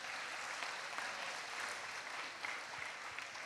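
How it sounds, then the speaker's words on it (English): Audience at a National Easwaramma Day programme applauds children after their offering, a steady, distant roar of many hands clapping, soft and unbroken with no talk over it. "Please could everyone give them a round of applause."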